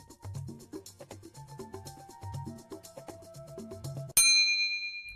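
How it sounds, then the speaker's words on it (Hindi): A single sharp round bell dings loudly near the end of a card-game show, cutting in after a stretch of soft rhythmic background music and ringing out briefly. "इसी के साथ पहले राउंड की घंटी बज चुकी है।"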